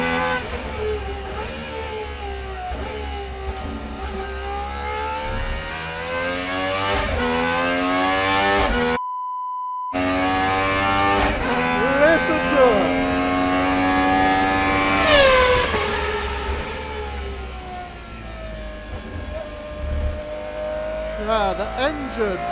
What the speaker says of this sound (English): Yeah, the engine